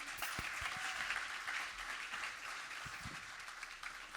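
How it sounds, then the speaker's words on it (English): An audience at a fintech masterclass event applauds to welcome a speaker to the stage, a full room of clapping with a few louder individual claps near the front, tapering slightly toward the end. "big round of applause for Sid Paquette"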